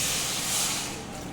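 A loud, steady hiss of water poured into a hot pan of masala and soya chunks, bursting into steam and sizzle, then easing slightly.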